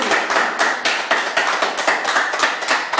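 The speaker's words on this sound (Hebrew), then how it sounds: "מחיאות כפיים" A small group claps rhythmically for Ami Whiskey at a party celebrating his release from house arrest, with sharp, evenly spaced beats of about three claps per second, loud and close, without talk.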